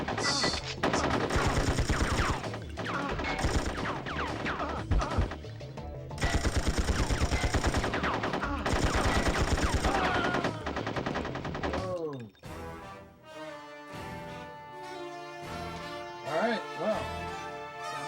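Gunfire in the PS1 video game 007 Tomorrow Never Dies crackles in rapid repeated bursts over busy game sound, breaking off partway as music and other game audio take over.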